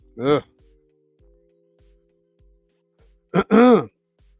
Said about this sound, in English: I'm not trying to, clear my throat like that